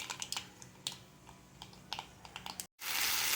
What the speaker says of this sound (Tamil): எண்ணெய் கொஞ்சம் சூடானதும் கடுகு கொஞ்சம் போட்டுக்கிறேன்